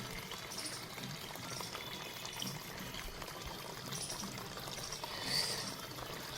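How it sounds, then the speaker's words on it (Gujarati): Water is faintly poured to fill a vessel for a Shiva linga ritual, a soft continuous trickle and splash kept low and in the background, with no talk. "આ પાણી ભરાય છે"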